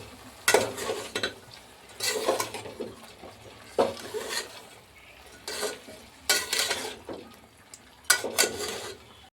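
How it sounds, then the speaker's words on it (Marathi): A spoon stirs a garam masala mixture with turmeric and salt in a frying pan, scraping and clattering in a handful of loud, close bursts over a soft background sizzle. "आता याला हलवून घेणार।"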